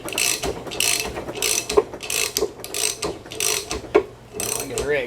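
A large 1/2-inch drive ratchet clicks in steady repeated strokes while pulling a red-hot pinion bearing, each pass a close, loud burst of rapid pawl clicks with short gaps between.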